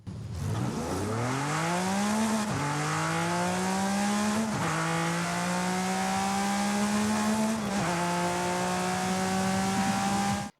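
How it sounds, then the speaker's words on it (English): A 2012 Porsche 911 GT3 RS 4.0 in Forza Horizon 5 accelerates hard, its engine climbing through the revs across several gears with sharp dips at each of three upshifts, loud and continuous with no talk. "And that engine does sound quite nice"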